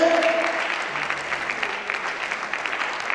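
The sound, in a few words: church congregation applauding in acclamation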